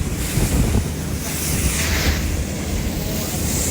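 A small boat out on the open ocean off Florida, waves washing and slapping against the hull under strong, steady wind buffeting the microphone, loud and constant throughout.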